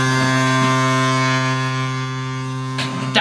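A Chicago NHL goal air horn blares loudly and steadily, a sustained deep harmonic foghorn-like tone with faint crowd noise underneath.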